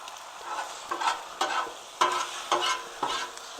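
Scrambled eggs frying on a Blackstone griddle, a steady sizzle broken by repeated scraping and stirring strokes at roughly half-second intervals, close by, with no talk.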